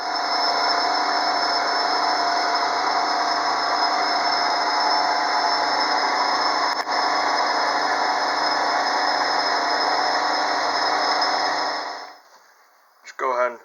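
A lathe spins steadily while a deer antler pen is buffed, giving a continuous tonal hum with a bright whine that runs unbroken for about twelve seconds, then cuts off and leaves brief handling noise.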